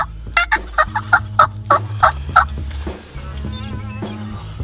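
A wild turkey roosted near a hunting blind in Nebraska gobbles loudly in a rapid rattling burst of repeated notes, then goes quiet. No voices are heard.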